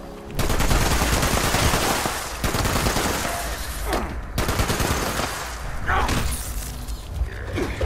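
Heavy automatic fire from a two-shot explosive .50 cal machine gun in a video game, loud sustained bursts with dense overlapping shots and brief pauses between volleys.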